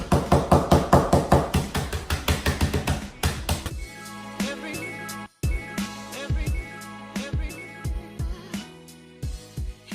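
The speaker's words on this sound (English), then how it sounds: "I can just take a mallet and do that" A mallet pounding snack mix ingredients for homemade Chex muddy buddies, first a rapid run of sharp, loud blows, then slower irregular thuds with pauses, close up and without talk.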